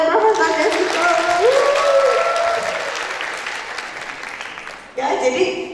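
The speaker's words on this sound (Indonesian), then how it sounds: "tepuk tangan buat Profesor Desito" Audience applause for a professor at the close of a parenting talk, a crowd's clapping rising under a speaking voice, thinning out, then picking up again briefly at the end.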